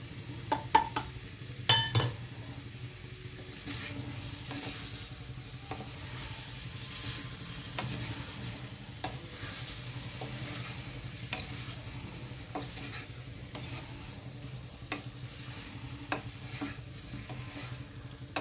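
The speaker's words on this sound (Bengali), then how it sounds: "বাটা মশলাটা মিশিয়ে নিচ্ছি" Ground spice paste being stirred with turmeric and salt into vegetables in a pan for a Bengali fish curry, with quiet continuous sizzling, soft scraping strokes and occasional light utensil clinks, close and without talk.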